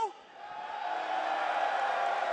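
An arena crowd at Mullen Arena cheers for Cloud9 during an LCS Spring 2026 playoff esports match against Team Liquid, a brief voice at the start giving way to a broad, swelling roar that builds and holds loud.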